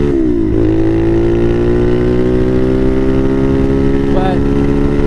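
A Bashan Motomax 250 motorcycle fitted with a Nibbi PE30mm carburettor runs at high revs on the street, its loud, steady engine drone holding a sustained pitch with a brief dip and recovery.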